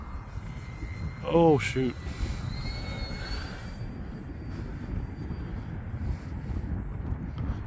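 An Arrows Bearcat RC model airplane flying on a windy day, its engine a faint distant hum under heavy, constant wind buffeting on the microphone, with a brief spoken exclamation near the start.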